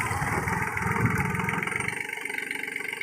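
A Swaraj Target 630 tractor engine runs with a rotavator attached. The mid-pitched engine drone is close and continuous, with a slight dip partway through and no voices.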